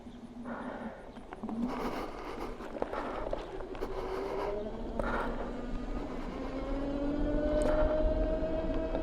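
A Times GT73 PRO ridden at full throttle in eco mode gives a steady electric motor whine that slowly rises in pitch, with rushing wind noise and road rumble throughout.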